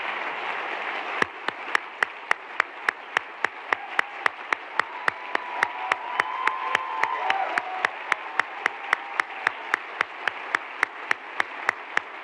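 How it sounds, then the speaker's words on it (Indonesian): Sustained applause and a standing ovation fill a large UN hall after Emma Watson's speech on gender equality, a dense even roar of many hands with crowd noise, steady and loud for the whole stretch. "Standing ovation dan tepuk tangan yang meriah menggema di seluruh ruangan usai Emma Watson berpidato."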